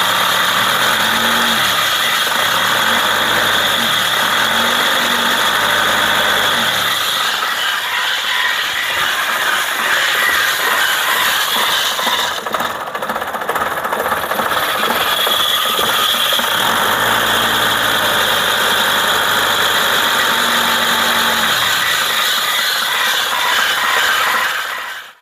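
A 2003 Isuzu Panther diesel engine idling after a 10 cm body lift, a loud, steady close rumble with ticking mechanical clatter running continuously for about 25 seconds, with no voices.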